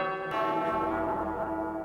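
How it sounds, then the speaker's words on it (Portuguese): A church bell rung by the sacristan during a novena for São Sebastião, rich sustained clanging tones that swell in and ring on steadily, close and fairly loud with no voices. "toca o sino,"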